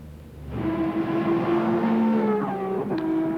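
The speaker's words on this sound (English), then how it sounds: "The first car is on the track." Race cars in the 1998 Bathurst 1000 top ten qualifying shootout, among them a Ford Mondeo, roaring loudly and continuously on track. A sustained engine note climbs through gear changes, with a brief higher shift near the end.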